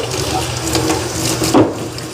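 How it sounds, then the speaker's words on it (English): Tap water running into a wash sink while prepping for a catering party, a continuous close splashing rush with some clinks and mechanical rattles mixed in and a brief louder gurgle near the end. "See if I can fill this with the water like that."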